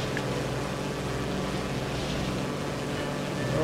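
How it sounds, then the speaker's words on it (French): A motorboat engine drones steadily over rushing water and wind during a boat ride in the video game Far Cry 2, continuous and moderately loud with no voices. "je me demande si le navire finalement est pas le moyen de locomotion le plus rapide du jeu"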